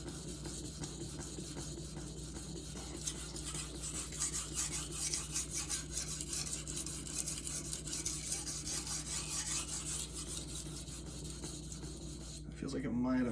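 A Magnacut steel gyuto kitchen knife is drawn across a wet 400 grit diamond waterstone, giving continuous gritty rasping strokes in a steady back-and-forth rhythm, close up, with faint speech in places.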